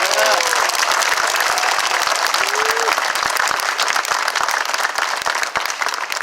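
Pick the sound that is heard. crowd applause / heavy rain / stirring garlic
crowd applause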